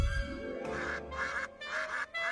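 A cartoon duck gives a run of honking, nasal quacks in a steady rhythm, repeated about four times, loud and close over a low hum.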